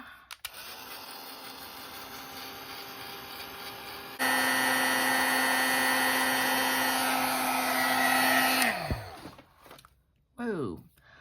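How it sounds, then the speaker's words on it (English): A Tim Holtz heat tool blasts steadily over drying paint, a loud continuous whirring blow that jumps in strength partway through, runs for several seconds, then cuts off and winds down, followed by a brief rustle. "I had to bring in my heat tool because that was taking forever to dry"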